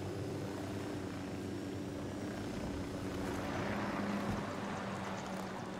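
Helicopter in the Ghost Recon video game, a continuous loud rotor and engine drone that holds steady throughout with no pauses.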